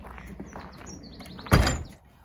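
A stable door at a pony club yard swings shut with one solid, close thunk, while birds chirp faintly in the background.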